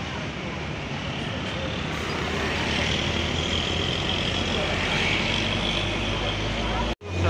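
An intercity economy-class bus bound for Ponorogo rumbles past on an arterial road near a junction, its engine noise swelling steadily amid ongoing traffic before a brief dropout at the end.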